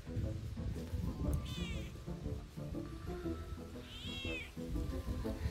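A cat meows twice, a short call early on and a longer drawn-out one later, over a steady low rumble of background noise outdoors in a village.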